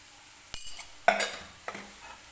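A spoon stirs coconut-garlic powder into fried fenugreek greens in a metal pan, making three distinct scraping clinks against a quiet background.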